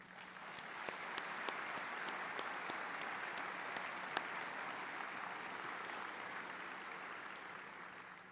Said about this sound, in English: I'd like to have a round of applause for all the loved ones.